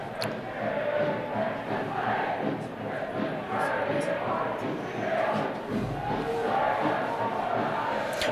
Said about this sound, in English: I hope you can hear the noise the crowd's making at home.